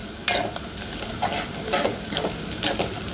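Onion sautéing in a pan with curry leaves, a steady close sizzle broken by repeated scraping stirs of a spatula for a besan vadi curry, with no voices.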